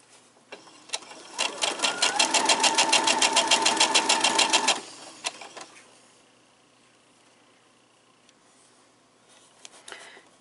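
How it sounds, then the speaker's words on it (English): A sewing machine stitches quilt patches onto a white fabric rectangle, running in a steady fast burst for several seconds before stopping, followed by quieter handling sounds and a few faint clicks. "you will do this until you have all of your four patches sewn onto a white rectangle"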